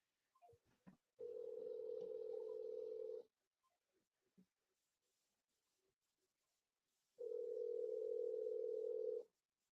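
Two long, steady telephone ringback tones with a few short clicks before them, separated by a quiet gap; a phone call ringing out before it goes to voicemail.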